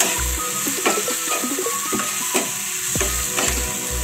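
Food sizzles steadily in a pan with a little sugar added, while a utensil stirs it in a run of short scraping strokes and light knocks close by. No one speaks.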